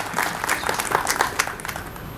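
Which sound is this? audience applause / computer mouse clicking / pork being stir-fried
audience applause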